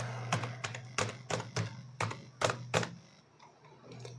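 Typing on a computer keyboard while filling out an online MSME Udyam registration form: a run of about a dozen crisp, close keystrokes in an uneven rhythm over a low steady hum, with no talking.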